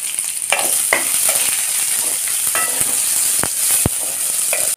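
Chopped small onions fry in a pan with a bright continuous sizzle, broken by occasional sharp scrapes and taps of a spoon stirring them close up.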